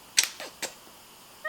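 A pet cat gives a few short meows, quiet and close, followed by a thin high chirp near the end, set in a calm indoor space.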